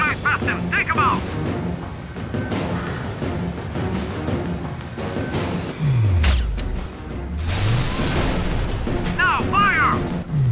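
Sniper rifle shots and exploding barrels in the Sniper: Ghost Warrior video game: loud booms and crashing bursts stand out from a busy, continuous game soundscape, with the biggest blasts near the middle. Faint voices occasionally mix in.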